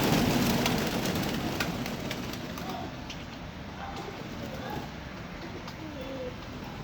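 Steady rain falls throughout, a dense continuous patter fairly close by, with pigeons faintly cooing beneath it.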